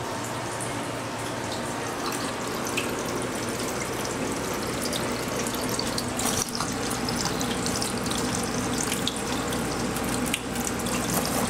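Water runs from a drinking fountain in a continuous close splashing stream, with a few brief clinks and bumps over the flow and no talking.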